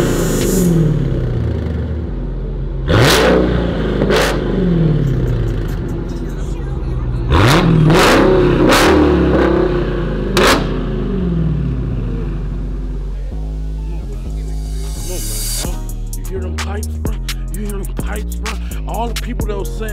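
A Porsche 911 Carrera engine revs in a series of sharp blips, each rising and falling quickly, with a rumbling idle between them and a voice heard briefly.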